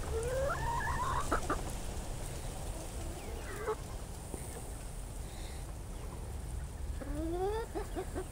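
A backyard flock of chickens, Buff Orpington, Americana and Whiting True Blue hens, clucks and calls nearby: repeated rising bawks and chatter over a steady farmyard background hum.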